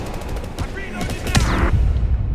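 Gunfire from a weapon in the video game 007 First Light: a loud, close volley of rapid shots with sharp cracks, blending into a dense rattle that continues to the end.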